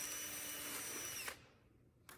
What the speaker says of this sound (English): the drill is connected to a bit up top that causes the system to begin spinning